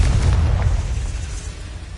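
A Confringo spell blast explodes in Hogwarts Legacy, a close, heavy boom whose deep rumble fills the whole moment and slowly tapers off.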